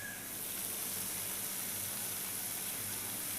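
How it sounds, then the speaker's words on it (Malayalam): Dates sizzling in hot oil in a frying pan for a Ramadan iftar snack, a steady, close, unbroken crackling hiss that holds for a few seconds with no talking. "അപ്പോൾ ഇവിടെ കുറച്ച് ചട്ടിയിലിട്ടിട്ടുണ്ട്, പൊരിച്ചെടുക്കാണ്."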